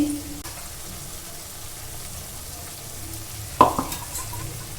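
Onions frying in a pan for a chicken curry make a low, steady sizzle, with one brief louder scrape or stir near the end.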